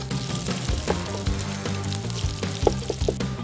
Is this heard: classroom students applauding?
no